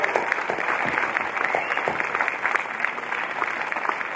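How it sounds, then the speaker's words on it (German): Applause from a festival audience for the Sinn Sinn dance group at a Bollywood festival in Thun, a dense, steady wash of many hands clapping close by that fills the whole stretch without talk. "Also einen grossen Applaus für die Tanzgruppe Sinn Sinn."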